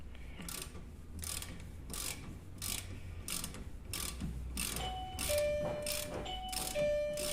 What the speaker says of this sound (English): This is the Lidl spanner coming back into action, the Lidl ratchet.